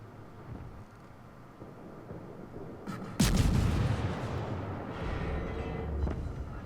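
Guns of the British destroyer Acasta fire in the World of Warships naval game, a sudden loud boom about midway followed by a long rolling rumble over steady low engine and sea ambience.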